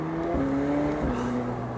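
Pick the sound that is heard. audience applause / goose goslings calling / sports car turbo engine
sports car turbo engine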